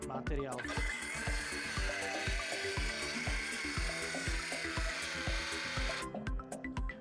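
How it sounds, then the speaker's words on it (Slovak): A Parkside Performance 12 V cordless circular saw on a 5 Ah battery cuts into material and bogs down, its whining motor straining with a repeating thumping rhythm throughout before the load eases near the end. "keď pílu pustím do rezu"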